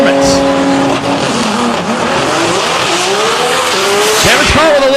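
A boosted drag race car launches down the strip with a brief hesitation, then hooks up; its engine roars loud and close, with tire squeal and rising revs under commentary.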